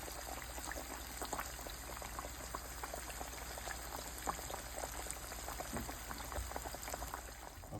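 Cornish hens deep frying in hot oil, a steady dense bubbling and crackling sizzle that runs evenly throughout at a moderate distance, with no talking.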